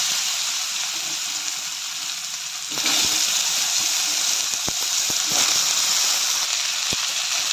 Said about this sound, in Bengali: আলুগুলো দিয়ে কিছুক্ষণ ভাজতে নিতে হবে, যতক্ষণ না আলুগুলো ব্রাউন কালার আসছে